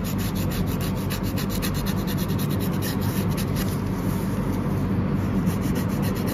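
A nail file rasps against a fingernail during a manicure, a steady close-up scratching and rubbing that runs continuously without pause.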